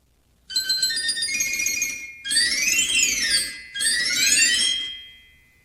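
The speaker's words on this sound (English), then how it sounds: "Together, the glockenspiel and piccolos sound like this." Chiming glockenspiel bars and shrill piccolo pipes of an 89-key Gavioli fairground organ play together in three bright phrases separated by short pauses.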